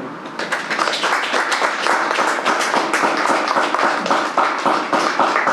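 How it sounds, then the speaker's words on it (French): Sustained applause from a conference audience at an opening ceremony in Bouaké, dense and steady throughout, with many hands clapping at close to middle distance and no clear talking over it. "j'aimerais qu'on applaudisse le Conseil général des Hauts-Bassins et l'ambassade du Burkina pour ce soutien énorme"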